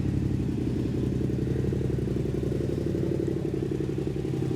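Yamaha R7 idling through a Titan GP2 full exhaust with no decibel killers, a steady, lumpy, Ducati-like burble held at an even level throughout, no talk.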